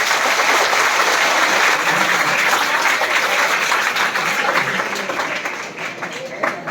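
A crowd claps their hands together in unison, loud, dense applause that holds steady and then gradually thins toward the end.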